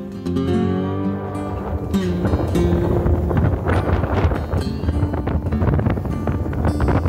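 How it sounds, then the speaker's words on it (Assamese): Steady desert wind in Rajasthan blows across the microphone with a constant rushing roar, broadband and continuous throughout, with a low tonal drone underneath. "আৰু ইয়াতে আপোনালোকে শুনিছে বতাহ বলি আছে"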